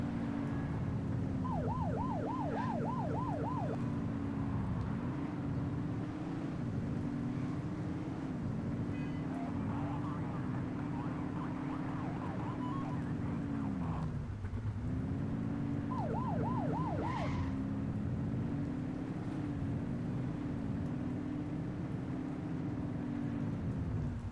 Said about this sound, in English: Turn that siren off.